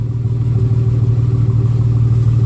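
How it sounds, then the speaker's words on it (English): A Nissan Xterra with a 3.3 engine, repaired after an injector misfire, idling smoothly up close with a steady, even low rumble and no talk. "Just a nice, smooth idle, which is what you want."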